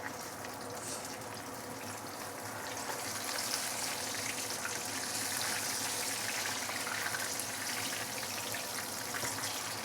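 Fish sizzles in a non-stick pan, a continuous crackling hiss of hot oil that grows slightly louder partway through and stays steady, with no talking.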